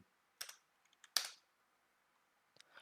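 Typing on a computer keyboard, a few quiet, close clusters of key clicks separated by silent pauses.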